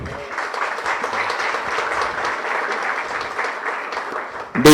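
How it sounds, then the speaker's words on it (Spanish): An audience at a university forum on a popular referendum and public higher education applauds, a dense sustained clapping that holds steady for several seconds before cutting off abruptly. "También ofrezcamos un aplauso a la magíster Ercilia Castañeda, vicepresidenta de la CONAIE."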